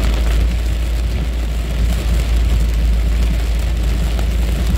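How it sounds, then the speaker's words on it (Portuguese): Heavy rain pours down in Porto Alegre during an early-morning cold-front storm: a loud, dense, unbroken roar with a deep rumbling low end, steady throughout, with no voices. "Chuva muito forte agora em Porto Alegre."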